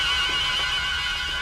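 A horse gives a short, close neigh, mixed with the clatter of hooves, in a single loud burst.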